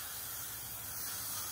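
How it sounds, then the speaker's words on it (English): An old spray paint can spraying onto a shortened VR6 oil pan, one steady, close hiss that runs without a break. "this is a good use of old spray paint"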